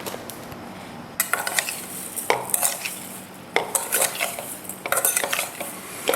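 Blueberries and vanilla sugar being stirred in a bowl: a spoon scrapes and clinks against the bowl in quick repeated bursts, close and fairly loud, with no voices.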